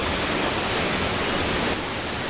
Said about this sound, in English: I think the reason why I love this waterfall so much is that it's the sheer drop off of the waterfall around the canyon.